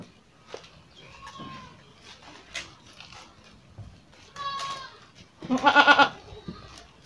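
Goats with a broken horn on a small farm holding a few dozen animals bleat in a couple of short calls, the loudest a strong wavering bleat near the end, over quiet background noise.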